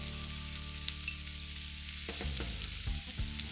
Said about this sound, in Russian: Обжариваем так пару минут, регулярно помешивая.